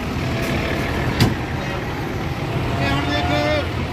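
A truck carrying goats to Faisalabad idles and rumbles nearby at moderate level, with a sharp hiss or knock partway through and a faint whine near the end, while people talk over it.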